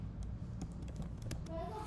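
Typing on a computer keyboard while writing PHP code, a quick run of light key clicks close to the microphone over a low background hum.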